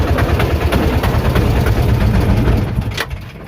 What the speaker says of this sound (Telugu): మీకు చూపించేదానికి ఇంజిన్ స్టార్ట్ చేశాను.